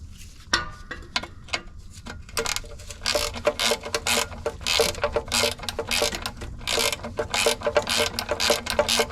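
Ratchet tightening bolts to draw a Saturn car's torque converter into place, heard as rapid close clicking strokes in repeated bursts with metallic ticks, loud and steady without talk.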